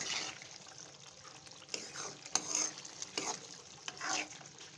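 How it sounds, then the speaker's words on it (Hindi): Potatoes, peas and rice for a pulao being stir-fried in a pot, faint soft scraping strokes of a spoon over a low sizzle, quiet and close. "इसी तरह से मैंने इसको भूनते जाना है"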